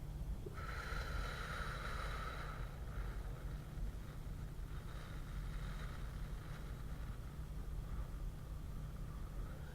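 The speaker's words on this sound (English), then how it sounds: "You're going to inhale and softly blow a steady stream of air." A person softly blows a steady, controlled stream of air during a breathing exercise in a voice lesson, meant to make a candle flame flicker. The breath is faint and airy, alone in a quiet room.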